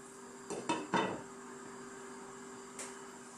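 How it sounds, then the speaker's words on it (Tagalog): A lid set back on a cooking pot of Filipino sinampalukang manok soup, with a few quick metallic clanks close by and one lighter tap a moment later over a quiet kitchen hum. "Takpan po muna natin uli."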